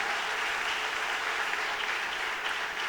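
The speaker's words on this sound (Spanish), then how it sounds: "Aplauda al Dios del cielo con fuerza, con gozo," A church congregation claps during a Spanish-language service, a dense, steady wash of applause from many hands filling the room without a break, with no voices standing out.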